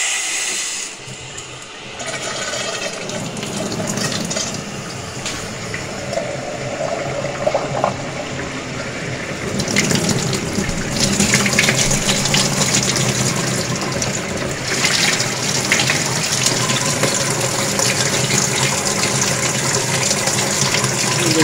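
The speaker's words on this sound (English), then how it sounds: "Now I got it hooked back up to the laundry tub faucet and I'll turn it on" Water runs hard from a laundry tub faucet into a spinning rotating-flow turbine, a loud continuous rushing gush that swells and churns louder partway through and keeps flowing without pause.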